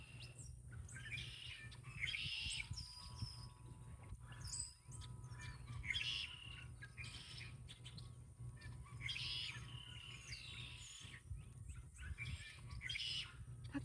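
A bird in a tree on Morrow Hill gives repeated mewing, cat-like calls in short bursts every couple of seconds, faint and distant over a low steady hum.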